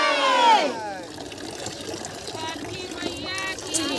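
Water splashes and trickles from a small lota during a Chhath Puja family gathering, close and brief. A crowd murmurs faintly behind it.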